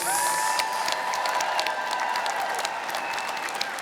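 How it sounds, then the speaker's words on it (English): A university business school commencement crowd applauds the graduating class of 2026 with a large, continuous wash of clapping and some cheering that stays loud and eases slightly toward the end. "one more applause for the graduating class of 2026."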